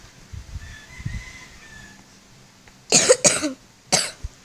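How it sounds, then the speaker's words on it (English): One person coughs several times in sharp, close bursts, a quick pair followed by another single cough, after quieter murmuring in the background. "I'm having a cough here"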